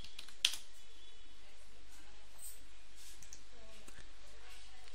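A file name is typed on a computer keyboard, light quick key clicks in short bursts with one sharper tap near the start, faint and close against a quiet room.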